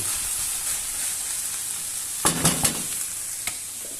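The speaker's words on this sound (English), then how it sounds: "you see how this is browning off now?" Food browns in a frying pan for a chilli pumpkin dish, giving a steady, close sizzle and hiss throughout, with a few quick stirring scrapes and clinks near the end. No one speaks.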